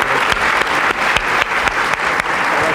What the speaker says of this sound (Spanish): Un aplauso nuevamente para nuestros invitados